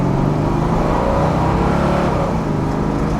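A 1971 Buick GS convertible pulling hard under acceleration, its engine a loud, sustained low roar that stays close and steady throughout, with no talking over it.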